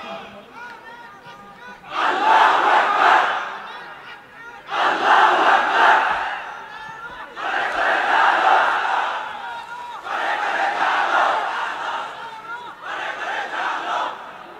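A large crowd at a Bengali Islamic religious gathering roars the takbir chant in answer to a speaker's call, five loud massed shouts each lasting about a second or two, separated by short gaps.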